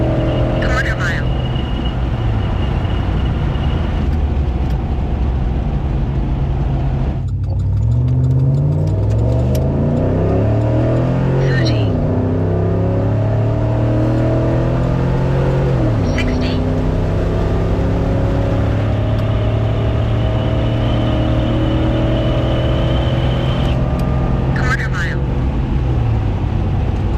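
A truck accelerates hard through a quarter-mile run, its engine climbing through several gear shifts with repeated rises and drops in pitch. It is loud and close throughout, with a steady roar under the shifts.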